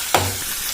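A single quick spatula stir through onion, curry leaves, dried chillies and ginger-garlic paste sautéing in a pan, a sharp scrape over a soft steady sizzle, close by and without voices.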